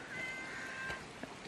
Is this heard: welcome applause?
no